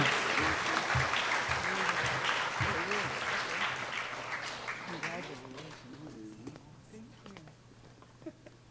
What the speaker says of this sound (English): Let's give a round of applause to Dane Burrell.